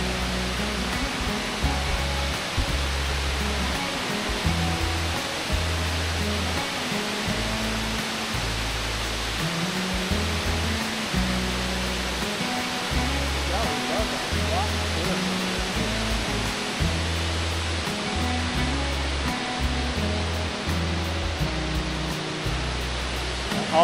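One of the waterfalls at Burgess Falls State Park sends up a loud, constant roar of falling water. The rush stays dense and unbroken, with low rumbling pulses underneath, and no voices can be heard.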